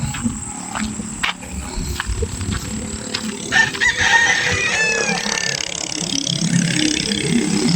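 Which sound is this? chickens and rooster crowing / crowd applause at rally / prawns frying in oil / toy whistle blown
chickens and rooster crowing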